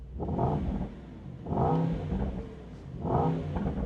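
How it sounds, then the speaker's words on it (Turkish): A Mercedes-AMG GT 63's exhaust, with its valves open, revs three times in a slow, even rhythm, each burst swelling into a deep throaty roar then settling back to idle. "Şu an egzoz açıldı."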